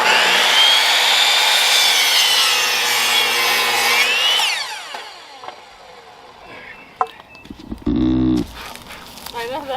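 A power saw cuts lumber for a wooden raised garden bed, whining loudly for about four seconds, then winding down, followed by scraping and knocking of the boards as people talk nearby.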